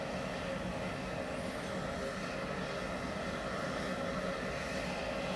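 Jet aircraft engines run with a steady, dense roar at an airfield farewell, unbroken and even for several seconds with no voices over it.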